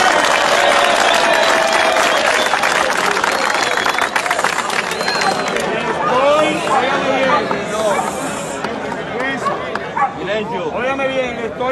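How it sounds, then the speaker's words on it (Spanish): Loud, dense clapping from a crowd at La Victoria prison fills the whole stretch, with barking dogs and excited chatter mixed in, especially toward the end. "¡Un aplauso!"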